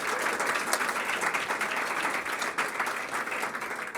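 An audience at a school board recognition meeting applauds high school qualifiers, steady dense clapping filling the room for several seconds at moderate level.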